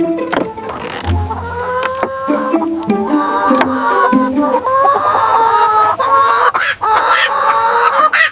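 Chickens cluck and squawk continuously in a busy, noisy flock, with overlapping calls and some rustling throughout.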